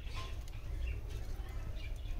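Newly hatched budgie chicks in a nest make faint, high, scattered chirps over a low steady background hum.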